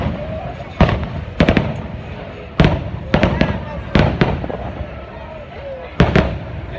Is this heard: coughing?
no